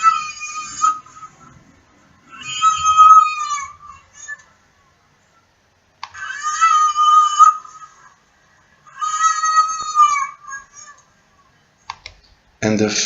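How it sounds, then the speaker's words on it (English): A recorded baby's cry played during a talk on alarm sounds: four drawn-out, wavering wails separated by short pauses, with a sharp click at the very end. "The second sound is that of a baby crying."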